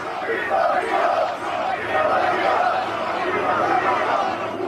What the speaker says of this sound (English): So you can hear those chants